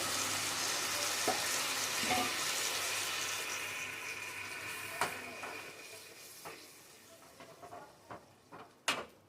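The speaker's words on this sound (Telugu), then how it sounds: "ఇప్పుడు దీంట్లోకి ఈ మాత్రం చింతపండు నుంచి తీసినటువంటి రసం, కొంచెం చిక్కగానే ఉండాలి" Thick tamarind juice poured into a hot frying pan for pakodi curry, a strong hiss that slowly dies down, then scattered spoon clinks and taps against the pan toward the end.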